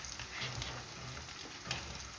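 Six or seven green chillies sautéing in a pan with onions for a Sri Lankan Tamil fish curry, a steady soft sizzle with faint stirring scrapes throughout, no talking.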